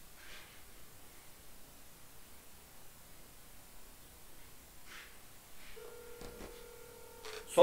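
A telephone line dials out for a call. Faint static hiss gives way near the end to a few steady electronic dialing tones, with the last one swelling louder just before it cuts off.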